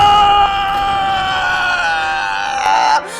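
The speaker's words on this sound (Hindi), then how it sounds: "ये तेरे पोते की चीख थी" A boy's sustained, high, strained scream rings out loud and close for about three seconds, rising briefly again near the end before cutting off.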